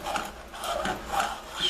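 A spoon or utensil scrapes a pot to free browned crumbs while veal stew Marengo is being made, giving a few soft, repeated rasping strokes at close range.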